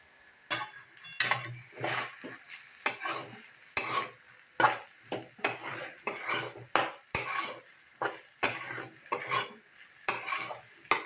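Sabudana khichdi with fried potato is stirred in a wok, with a metal spoon scraping in regular, rhythmic strokes over a continuous sizzle of frying, all close and without speech.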